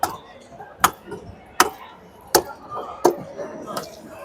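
A shapla fish is cut with a blade in sharp, evenly spaced chops, five or six hits about a second apart, close by, with low background voices between strikes.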